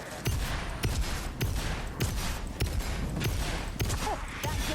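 Gunner fire in the video game Vermintide, a fast burst of sharp shots repeating at a steady rhythm, fairly loud and close, with battle noise in the background.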